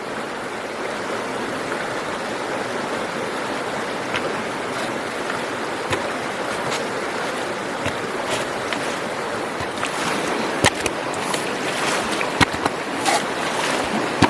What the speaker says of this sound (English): I'm going to fill it up with water so I can use the Vogatron